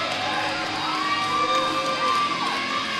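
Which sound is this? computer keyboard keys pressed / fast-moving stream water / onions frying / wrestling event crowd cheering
wrestling event crowd cheering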